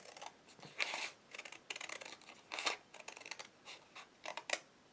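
Scissors snip through folded paper card in a string of short, crisp cuts that come in quick bursts with brief pauses between them, close up and fairly quiet.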